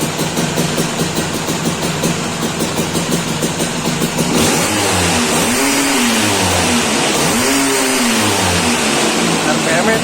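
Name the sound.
Vespa scooter engine revving on a dyno test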